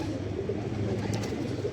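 A fancy flying pigeon coos in low, soft, rolling tones that blend into a steady murmur, close and continuous over the short stretch, with no one speaking.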